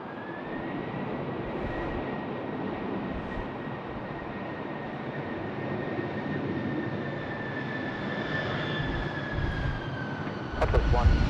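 An Airbus A330 landing at Sydney Airport gives a steady, loud jet engine roar with a sustained whine throughout, swelling slightly near the end as it passes close.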